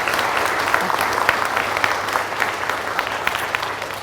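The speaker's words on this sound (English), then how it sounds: "a round of applause, please, for our musicians" A crowd at a school open evening applauds musicians steadily, a dense wash of many hands clapping at even loudness throughout, with faint voices mixed in.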